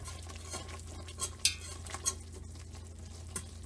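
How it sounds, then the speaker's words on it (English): A whisk stirs seafood bisque at a steady boil in a pot over a wood fire, giving soft scraping and a few light metallic clinks against the pot over a constant low background hum. "make sure everything is whisked well together"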